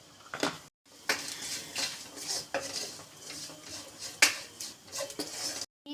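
Spices being stirred together in a pan with a metal spoon for a clam roast with garam masala and pepper, giving repeated scraping and clinking strokes, fairly close and distinct, with short pauses between them.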